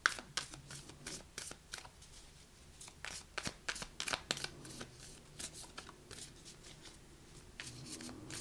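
Tarot cards are shuffled by hand, light cards riffling and sliding in quick crisp bursts with short pauses between, close and quiet, with no talking.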